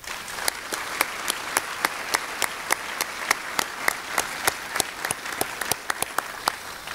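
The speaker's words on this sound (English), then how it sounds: "Let's give them all a round of applause as well." An audience applauding staff at a workplace awards ceremony, a sustained round of clapping with several distinct, sharp claps repeating at a steady rhythm above the general crowd sound.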